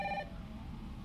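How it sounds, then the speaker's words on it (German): Telephone in the video game Resident Evil 3 giving a brief electronic ring at the start, a short tonal burst that cuts off quickly, leaving quiet game ambience. "Ja, wir gehen erstmal ans Telefon."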